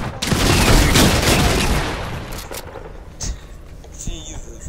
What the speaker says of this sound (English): I killed you with a revolver.